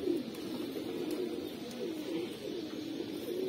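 A teddy-breed pigeon coos softly up close in repeated low, throaty calls over a faint background hum.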